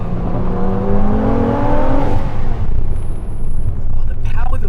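A Nissan GT-R NISMO R35 accelerating hard, its loud engine note rising steadily in pitch before dropping back, with a sustained rumbling roar throughout and a voice speaking partway through.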